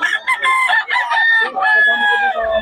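Roosters at a market crowing loudly and close in overlapping bursts, with clucking between the calls and a few short breaks.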